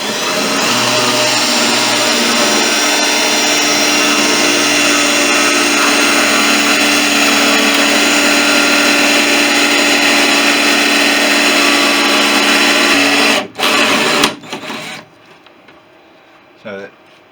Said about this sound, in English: I'm now putting through an 8mm ream, and I'm just going to use this to